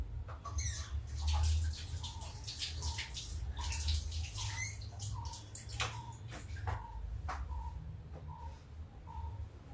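Hands washed under a running tap in a home kitchen, a steady broadband water rush with small splashes and clinks throughout, no talk.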